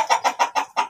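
A chicken clucks five times in quick, even succession, close and clear with nothing else audible.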